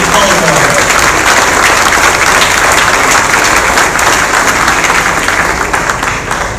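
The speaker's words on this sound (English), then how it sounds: "So a round of applause, please, for that bosun mate on the pipe and the color guard." Loud, sustained applause from an audience at a Pacific Partnership 2019 ceremony honoring a bosun mate on the pipe and the color guard, dense clapping filling the whole stretch and easing slightly at the end, with some voices mixed in.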